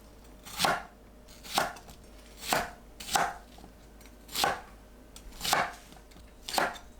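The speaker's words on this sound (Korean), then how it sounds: "양파를 한 입 크기로 썰어주세요" Knife chopping onion into bite-size pieces on a board, seven evenly spaced crisp cuts about one second apart, close and clear with no talk.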